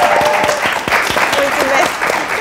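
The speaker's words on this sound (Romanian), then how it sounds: "Aplauze pentru Sore." A television studio audience claps for a guest on a pilot episode of a talk show, close, loud clapping with voices and cheers mixed through the brief burst.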